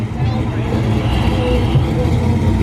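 A boosted Ford Mustang's engine revs steadily at close range, a loud continuous rumble under the hubbub of a car meet, with people talking nearby.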